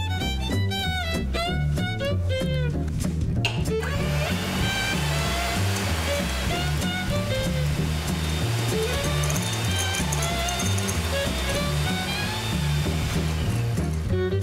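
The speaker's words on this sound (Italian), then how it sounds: "Ora montiamo la panna." An electric mixer whips cream for a chocolate mascarpone mousse, settling into a steady, loud whirring hum that runs unbroken after a brief tonal intro.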